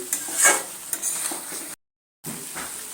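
Eggplant sautéing in a pan with cumin-chili powder, a close steady sizzle with brief spatula scrapes, broken by a short silent gap before the frying resumes.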